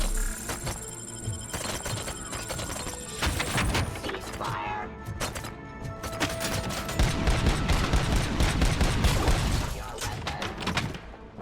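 Rapid bursts of gunfire and sharp impacts in RoboCop: Rogue City, dense and continuous across the clip, loud and close, with crashing debris mixed in.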